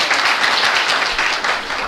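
A crowd applauds steadily, dense clapping sustained throughout at a fairly loud level.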